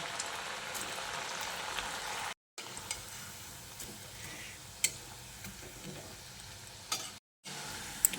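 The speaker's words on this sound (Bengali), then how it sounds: "একইভাবে সব মিষ্টিগুলোকে ভেজে নেব, তবে একবারে বেশি দেওয়া যাবে না" Homemade sweets deep-fry in hot oil with a steady, moderately faint bubbling sizzle, broken by two brief silent gaps and a few small clinks.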